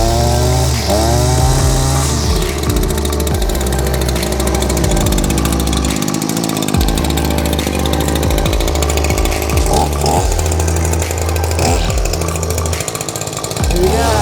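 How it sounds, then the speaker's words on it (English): A gas string trimmer runs at steady, loud buzzing revs near the listener on a lawn beside a 12' x 20' Amish cottage-style shed, with its pitch wavering slightly throughout. "Time to do a little weed eating."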